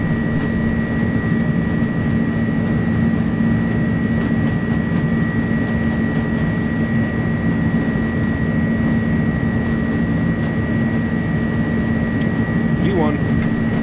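Simulated Airbus A300 with Pratt & Whitney engines on its takeoff roll in a flight simulator, a loud steady engine drone with sustained tones throughout, with voices over it.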